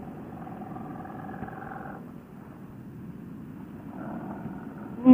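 A 700cc motorcycle engine runs steadily while riding, with a low continuous drone and a slight rise in pitch toward the end, heard close and alone with faint wind noise.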